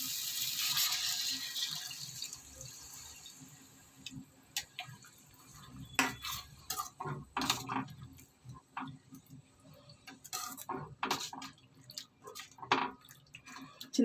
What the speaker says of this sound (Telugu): చింతపండు రసం తీసుకున్న తర్వాత స్ట్రైనర్తో వడబోసుకోండి.